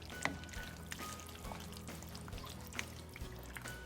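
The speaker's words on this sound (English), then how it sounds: "we're gonna go ahead and add our tomatoes" Crushed tomatoes pour into a pot of chili with beans, a soft wet glugging and trickling pour, close and fairly quiet, lasting a few seconds with a couple of small splats.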